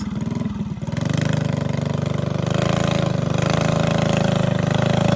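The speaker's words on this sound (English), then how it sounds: "It's alive. It even idles." A Predator 212cc small engine fitted with a stage 5 head catches and settles into a loud, choppy, pulsing idle close by, its rapid uneven thump running steadily.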